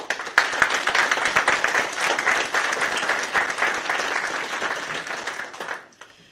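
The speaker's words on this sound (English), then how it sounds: "Let's show our appreciation with a well-deserved round of applause." A graduation ceremony audience gives a sustained round of applause, dense and fairly loud, holding steady for several seconds before tapering off quickly at the end.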